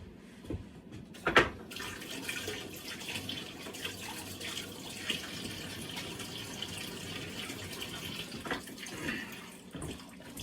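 Tap water runs steadily over a raw lobster tail being rinsed in a kitchen sink, a continuous splashing rush with a brief louder splash near the start.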